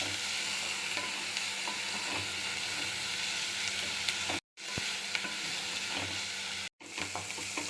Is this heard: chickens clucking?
no